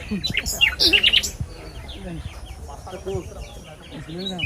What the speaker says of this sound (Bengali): দেখেন কত সুন্দর পাখির আওয়াজ